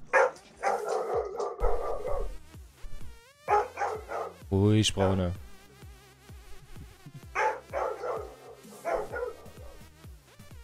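Dog barking in short bursts, fairly close, interleaved with people talking and laughing over it in German.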